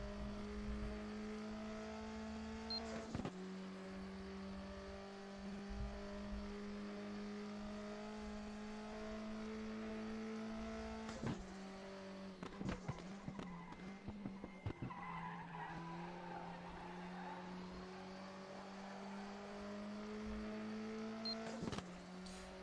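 A race car in a racing video game drives a track, its engine droning steadily with gear-shift dips and repeated bursts of tire skidding as it wiggles through corners, loud and continuous with no talk.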